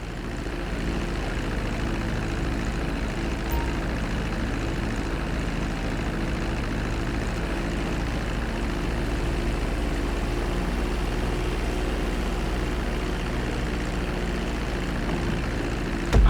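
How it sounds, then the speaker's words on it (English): Plane engine in GTA 5 taxiing on a runway, a constant loud propeller drone and rumble that holds steady for the whole stretch with no talk over it. "Now let's get the plane off the runway."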